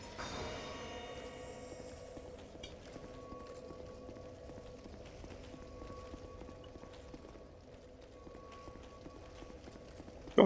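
Galloping hooves of the Executioner's Chariot steed in Dark Souls 2: Scholar of the First Sin, a steady clatter of hoofbeats under droning tones and ambient game sound, with no voice over it.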